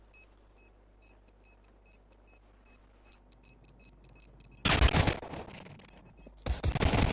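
Bursts of gunfire from a team shooter esports match erupt loudly after quiet game ambience with faint beeps, two dense volleys standing alone near the end.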